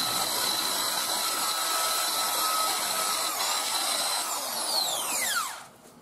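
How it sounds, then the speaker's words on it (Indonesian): Power drill boring into a cover part during a Suzuki Satria FU motorcycle restoration; a loud, steady high whine runs for about five seconds, then winds down with a falling pitch as the drill stops. "Sekarang dibor."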